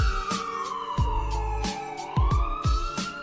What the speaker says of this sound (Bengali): এবং অ্যাম্বুলেন্সটা হাসপাতালের দিকে রওনা দেয়।